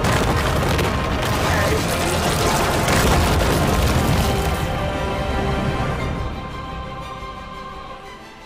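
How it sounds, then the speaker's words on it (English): A huge, sustained explosive roar from the anime Demon Slayer fills the clip for several seconds, loud and broadband, then slowly fades into a rumbling decay. "Explosion?"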